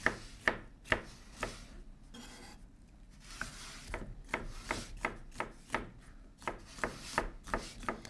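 A knife thinly slices peppers into julienne strips: rapid, evenly spaced chopping strokes, close and crisp, with a brief pause before the rhythm speeds up again.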